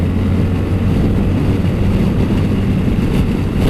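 A BMW R1300 GS motorcycle engine holds steady near 5,000 RPM in fourth gear, a loud continuous drone mixed with wind rush and no break in the noise.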